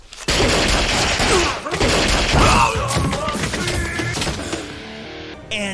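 Gunfire rings out in a Steven Seagal action movie scene, a loud burst of shots and impacts over tense film sound and brief dialogue, then trailing into quieter background.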